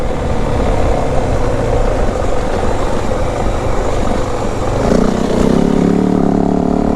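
A 2025 Yamaha WR450F dirt bike is ridden with a heavily restricted, stock-corked exhaust. The engine drones loud and close, then the pitch shifts as the revs change near the end.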